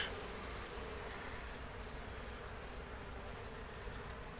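Healthy honeybees around a hive buzzing in a steady, dense drone, close and unbroken, with no voices.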